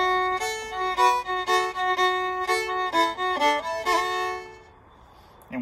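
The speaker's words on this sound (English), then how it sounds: "So when you add the melody to that shuffle, it sounds like this." A fiddle plays a lively melody with bouncy, rhythmic shuffle bowing, notes pulsing in steady groups, then fading to quiet at the end.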